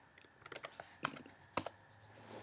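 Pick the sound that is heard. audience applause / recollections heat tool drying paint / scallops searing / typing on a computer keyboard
typing on a computer keyboard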